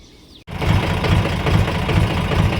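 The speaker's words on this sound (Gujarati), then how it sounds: "તો આપણે જો ટ્રેક્ટર ચાલુ કરી લીધી છે" A tractor engine starts up abruptly after a short quiet lead-in and settles into a steady, loud, close-up idle with a rhythmic diesel chug and no talking.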